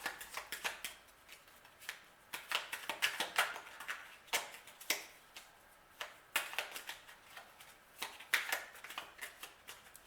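Toltec agreement oracle cards are shuffled and drawn by hand, a quick irregular run of crisp flicks and riffles close up, quiet and without talking.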